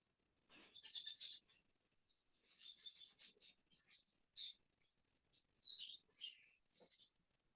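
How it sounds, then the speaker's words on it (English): Small birds chirp and tweet in short, high bursts with pauses between, fairly faint against an otherwise quiet background, in a garden. "who's got the birds nearby? Because I can hear birds."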